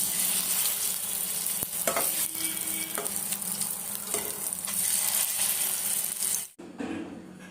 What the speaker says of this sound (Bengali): উল্টে পাল্টে আমি সমস্ত শিমগুলো ভালো করে ভেজে তুলছি